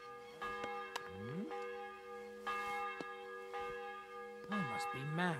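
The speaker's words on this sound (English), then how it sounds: "The 11th toll of the bell. The last before the execution starts." A church bell tolls in the medieval game Kingdom Come Deliverance 2, with rich ringing overtones that sustain and decay across the clip, joined by brief sliding voice-like tones.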